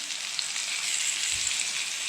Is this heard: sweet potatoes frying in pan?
yes